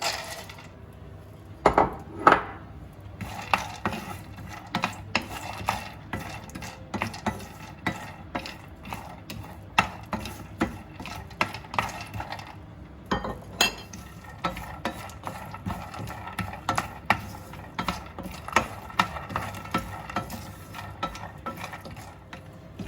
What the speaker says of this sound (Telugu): ఇప్పుడేమో వాల్నట్స్, అండ్ వాల్నట్స్తో పాటు నేను పిస్తా కూడా వేస్తున్నాను